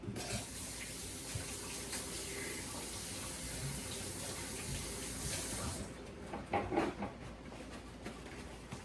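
Hands being rinsed under running kitchen tap water while making corned beef and cabbage, a steady broadband rush of water that stops near the end, followed by a few clinks and splashes.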